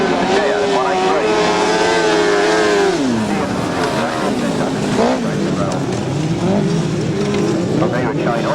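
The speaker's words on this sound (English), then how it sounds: "Sidecars in action again." Grasstrack sidecar motorcycles race past at a 1999 meeting, engines rising and falling in pitch as they pass, with a commentator talking continuously over the loud, steady motor roar.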